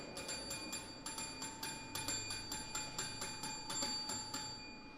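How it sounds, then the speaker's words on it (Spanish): A single bell is struck again and again in an even, steady rhythm, each strike ringing with a bright metallic tone that fades quickly; it is fairly faint and heard alone. "pero esta campana solamente tiene una sola voz"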